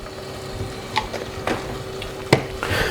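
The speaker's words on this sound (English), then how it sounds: "So I'm going to go in with my cream." Cream poured into reduced chicken stock in a hot pan, a soft steady sizzle and stirring with a few sharper splashy clinks, close and unvoiced.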